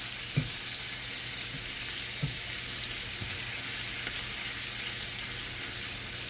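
Half a small onion fries in hot oil while being stirred for an Indian apple curry, giving a steady soft sizzle with a few light scrapes and taps of the spoon.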